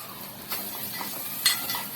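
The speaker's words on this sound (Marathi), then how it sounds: "ती पण तेलात चांगली फ्राय करायची, सॉरी बटरमध्ये" Ginger garlic paste fries in butter for keema pav, a close continuous sizzle with light stirring scrapes and a couple of soft clinks.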